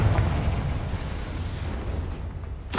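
A Confringo fire spell explodes in the video game Hogwarts Legacy, a loud, sustained rumbling blast lasting about three seconds that ends in a sharp fresh burst.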